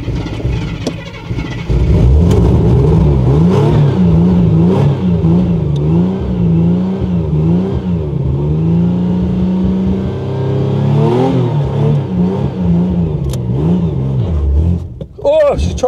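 A Ford Granada Mk2 2.8 Ghia X, abandoned for years, runs and revs loudly up close, its engine note rising and falling in repeated surges before cutting out near the end, with a voice speaking over it.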